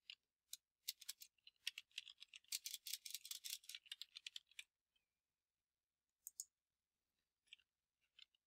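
Quiet computer keyboard typing as vocabulary words are entered: a quick run of light key clicks, then a pause and a few scattered taps, close and soft.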